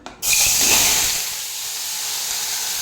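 Washed spiny gourd (kantola) drops into hot oil in a pan and sets off a sudden, loud, close sizzle that settles into a steady crackling hiss. No one speaks.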